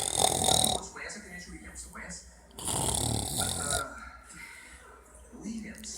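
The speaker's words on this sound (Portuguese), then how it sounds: "Como ronca esse corintiano." A Corinthians fan snores after lunch in loud, rough, repeated breaths with a throaty rattle, up close, while people talk and laugh over them.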